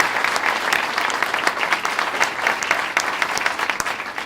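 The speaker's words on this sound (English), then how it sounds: "Let's give those funders a quick applause." An audience at a building opening ceremony applauding, a steady wash of many hands clapping at moderate volume throughout, without a break.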